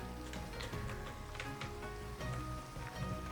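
Steady rain pours down in a Minecraft world, a dense even hiss of drops hitting surfaces that runs through the whole stretch with no voices over it.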